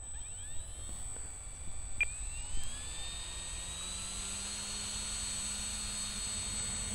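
An Arrows Bigfoot RC jet plane revs up and takes off, its thin electric ducted-fan whine rising and sweeping away into the distance over steady outdoor wind noise.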